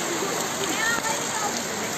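Heavy rain falling in Cape Verde, a steady wash of broadband hiss, moderately loud and even across the short stretch.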